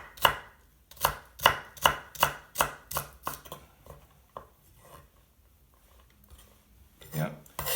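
A knife dicing celery batons on a board makes a steady run of about eight crisp, close chops in quick rhythm, then fainter scattered taps.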